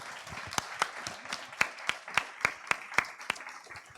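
An audience at an evening talk on climate migration claps for the speakers, with sparse, distinct handclaps scattered over a quieter crowd background, moderately close.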